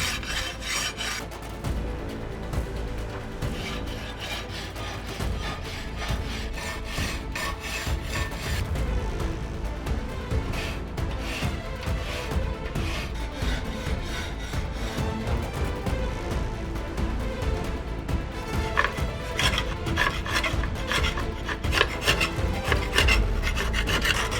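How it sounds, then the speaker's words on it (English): A metal file and scraper rasp in continuous back-and-forth strokes along a forged katana blade, loud, close and gritty, with no voices. "all it takes is a file and a scraper to prepare the blade for heat treating"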